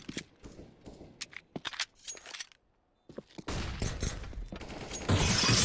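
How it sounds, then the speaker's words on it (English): Rapid gunfire rattles in Counter-Strike on the Train map, with bursts and single taps, then a brief silence before sustained, dense shooting builds up loud and close. "I thought Zero was going to take a shot for the smoke there"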